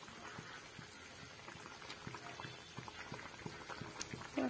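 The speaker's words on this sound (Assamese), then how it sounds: "এইখিনি উতলিছে" Water bubbles at a boil in a pot for fish curry with elephant apple, a soft, steady stream of small pops and burbles, fairly quiet and close, with no talking.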